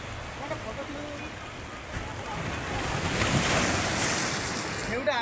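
Ocean waves surge and break against a rocky shore in a continuous roaring wash, swelling louder midway, with gusty wind buffeting the microphone and faint voices in the background.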